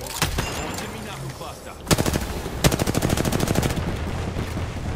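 Gunfire in Apex Legends: a couple of isolated shots, then two rapid bursts of automatic fire, close and loud, rattling for several seconds.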